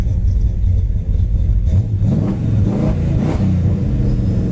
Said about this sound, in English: I'm gonna rev it up there to let you get a good listen to the sound.